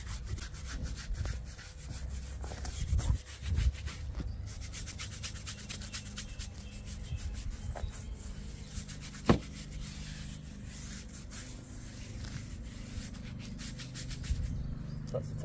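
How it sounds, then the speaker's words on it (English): A firm-bristle tyre scrubber brush scrubs a car tyre on a multispoke wheel, giving steady close rasping strokes with a few louder bumps, no talking. "I'll give this wheel a scrub the tyre using our tyre scrubber."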